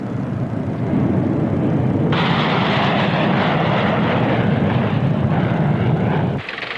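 Loud military fighter jets roar overhead during the Operation Red Flag exercise, a continuous broadband rumble that turns harsher partway through and then drops off abruptly near the end.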